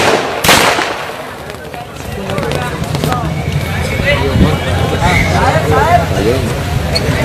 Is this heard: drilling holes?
no